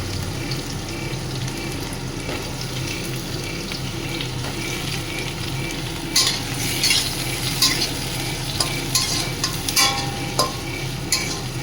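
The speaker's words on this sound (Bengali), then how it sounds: "এটা নাড়তে থাকবো।" Potatoes and onions being stirred and fried in a pan with a steady sizzle under continuous scraping and stirring, busier clatter in the second half, close and fairly loud.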